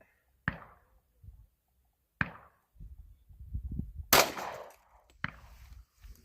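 Sharp pistol shots from a Tisas PX5.7 at an outdoor range, three spaced single cracks plus a louder one, each ringing briefly, with low rustling and handling noise between them.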